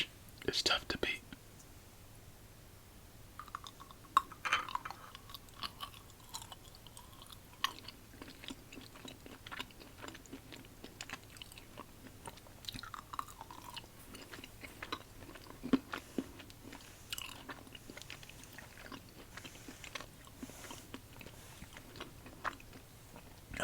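Crunchy Christmas-themed chocolate candy being chewed close to the mic, soft intermittent crunches and bites scattered over a quiet background, with faint whispering between them.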